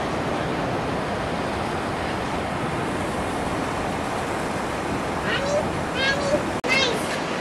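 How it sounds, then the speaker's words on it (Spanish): Ocean surf rolling onto the beach at Myrtle Beach, South Carolina, a steady broadband wash blended with wind noise, with faint high children's voices near the end. "Qué bonito suenan las olas."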